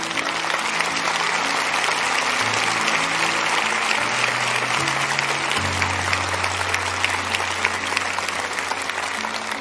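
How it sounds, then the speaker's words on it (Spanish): A church audience applauding, with steady, full clapping sustained throughout and low musical tones playing beneath it. "yo quiero que donde usted esté los anime dándoles el mejor aplauso que usted pueda dar"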